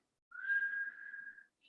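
A voice imitates someone whistling in their sleep: a single soft, sustained whistled tone lasting just over a second, alone in silence, ending with a brief faint chirp.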